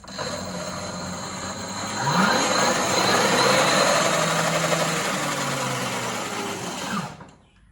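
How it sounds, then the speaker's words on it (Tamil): A hybrid petrol-electric bike running on its electric throttle gives a steady mechanical whine that rises in pitch as the throttle opens, then holds and cuts off near the end, with no talking. "இப்போ இது எலக்ட்ரிக்கில் ஆன் பண்ணுறோம். ஆன் பண்ணிட்டோம். த்ராட்டில் கொடுக்குறேன்."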